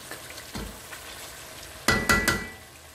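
Oil sizzles gently in a cooking pot, followed by a few louder knocks and scrapes of a utensil against the pot near the end.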